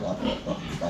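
Pigs grunt and oink on a farm with piglets, a few close, rhythmic low grunts packed into under a second.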